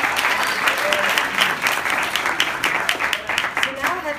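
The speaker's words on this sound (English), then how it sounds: "Let's give her one more round of applause." An audience at a talk on a campaign to end slavery breaks into sustained applause, a dense wash of many hands clapping that stays full and lively throughout.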